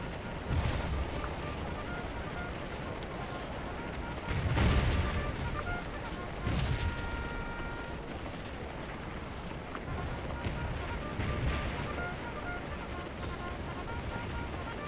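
Distant artillery fire rumbles through a Scourge of War battle, with several deep booms around 5, 6.5 and 12 seconds over a continuous low background din, while someone talks over it.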